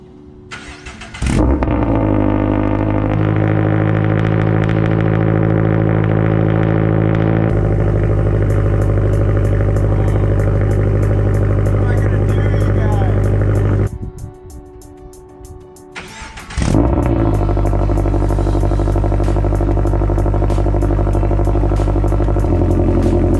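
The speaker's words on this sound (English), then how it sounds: "we'll go ahead and start the car up for you guys" A car fitted with a homemade DIY exhaust silencer cranks and fires up, then settles into a loud, steady idle; the engine briefly drops away midway before restarting and idling again.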